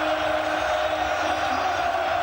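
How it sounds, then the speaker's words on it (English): A stadium crowd cheers loudly and continuously for a Norwegian Manchester City player on the Premier League trophy podium, a dense and sustained roar. "The biggest cheer on the podium for the Norwegian"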